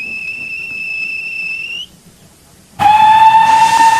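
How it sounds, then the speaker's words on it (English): A train guard's whistle sounds in two long, steady, shrill blasts, then stops, and after a short gap a loud, sustained train whistle cuts in with a rushing roar, close and without speech. "The guard blew his whistle"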